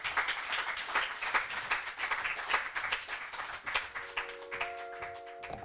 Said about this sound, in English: Let's give another round of applause to Thad and our readers, Ed and Timothy